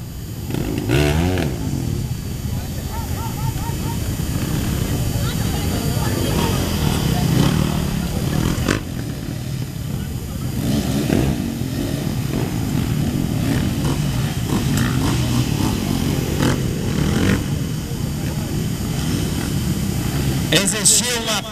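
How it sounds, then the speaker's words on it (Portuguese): Off-road motorcycles race over a rocky course, engines buzzing and revving continuously at moderate distance beneath steady commentary from someone speaking throughout. "Piloto teve problema ali de percurso com a motocicleta de número 99, Alexandre."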